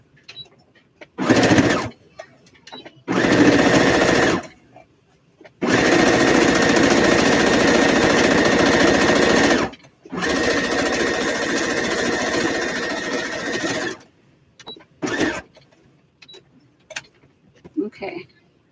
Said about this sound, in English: I'm going to top stitch these ends, but then I'm going to do the zigzag on there to stitch on those other pieces